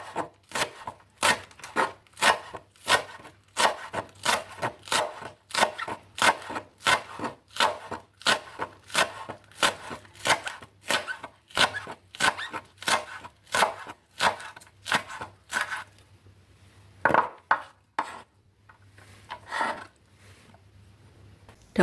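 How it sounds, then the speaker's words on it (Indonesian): A knife chopping a spring onion into small pieces on a board, loud close rhythmic knocks in a fast steady run, thinning into a few scattered cuts toward the end. "1 batang daun bawang dipotong-potong kecil"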